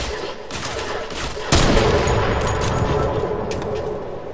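Gunfire in a multiplayer video game scrim, a sustained burst of rapid shots that begins abruptly partway through and continues over a constant, busy background of game noise.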